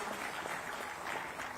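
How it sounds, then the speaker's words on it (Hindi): An audience at a ceremony honouring elderly democracy fighters applauds, a brief, steady wash of many hands clapping, faint and spread out. "इन बुजुर्गों के सम्मान में तालियां तो बनती हैं।"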